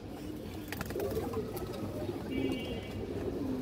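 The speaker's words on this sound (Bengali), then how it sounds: "এটা 1 হাত সাইজের একটা মাদি কবুতর" A female pigeon about a cubit long coos softly in a loft, the low murmuring coos continuing quietly for a few seconds amid faint background noise.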